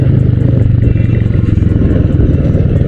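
Motorcycle fitted with an imitation SC Project exhaust pipe, running steadily and loudly up close with a dense, continuous low rumble and clattering texture, no voices.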